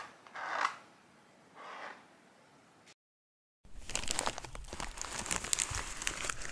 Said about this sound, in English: here is what a paint knife sounds like on camera